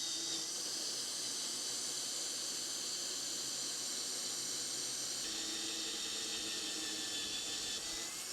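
A steady high-pitched whine of a power drill boring into an Audi A3 bumper runs throughout, faint and even, with a slight shift in pitch partway through and no talk.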